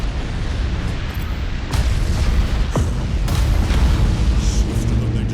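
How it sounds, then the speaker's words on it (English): Mines detonating in space combat in Battlefleet Gothic Armada 2, heavy booms rolling over a dense, sustained rumble with sharp bursts breaking through. "Tell them to detonate the mines. That explosion should clean our tails of these traitors"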